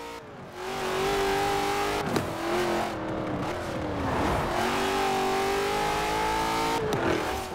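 Engine of the Hot Wheels Bone Shaker hot rod in Forza Horizon 4, revving steadily and climbing in pitch through several gear changes, loud and close with no talk over it.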